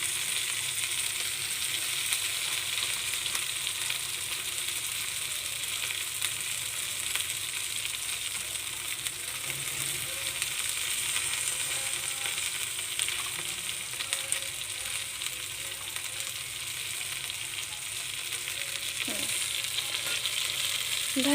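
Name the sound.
okra frying and sizzling in a pan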